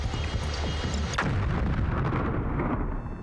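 An explosion in the PS2 game Flower, Sun, and Rain: a sharp blast bursts out over a dense, rumbling background and then fades into a long decaying roar.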